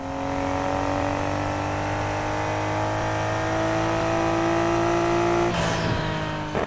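Nissan Skyline R32 engine in Need for Speed Heat, a loud steady drone of sustained revs held for several seconds before a sudden high-pitched burst near the end as the engine shifts or pops.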